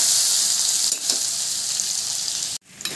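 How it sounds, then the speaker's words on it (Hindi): Potatoes and pointed gourd (parwal) fry in a pan with a steady, close sizzling hiss that runs almost unbroken, then stops sharply for a moment near the end before starting again. "यहाँ पर देखिए आलू और परवल दोनों अच्छे से फ्राई हो चुका है"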